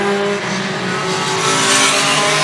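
Pure stock cars racing on the Star Speedway oval, engines roaring at full throttle in a dense, sustained drone, loud and continuous with the pack thundering past.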